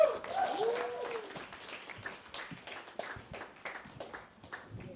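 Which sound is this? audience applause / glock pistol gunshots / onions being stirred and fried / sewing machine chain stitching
audience applause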